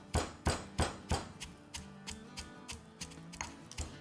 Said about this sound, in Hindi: इसको हम डालेंगे अपने कूटने में और साथ ही डाल देंगे आधा जावित्री का फूल और कोटर जायफल। तो ये डाल देंगे इसमें और इसको अच्छे से कूट लेंगे।